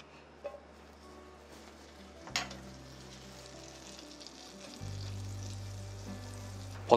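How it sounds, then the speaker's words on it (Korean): A teaspoon of butter melting in a frying pan gives a faint, steady low hiss, with a couple of small knocks and a slight rise in the sizzle near the end. "팬에 버터 한 작은술을 넣고 녹여주세요."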